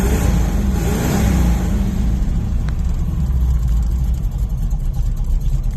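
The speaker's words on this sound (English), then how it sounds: "she's running. Funny, it's so quiet inside being a stock muffler" Car engine with a stock muffler running at a steady low rumble, close and continuous throughout, with a brief rev swell near the start.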